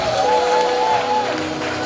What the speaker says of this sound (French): Des cris de joie bien nourris.